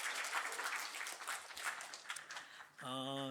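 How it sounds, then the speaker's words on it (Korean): A church congregation claps together in sustained applause during a Sunday service, fairly distant and even, ending as a sung or held musical tone comes in. "자, 예, 큰 박수로 예, 예."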